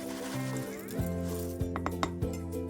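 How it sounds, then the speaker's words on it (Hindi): A spoon stirs a mixture of ingredients in a bowl, with light clinks and scrapes against the bowl over steady background music. "अब ये सारी चीज़ों को हम अच्छे से मिक्स कर लेते हैं"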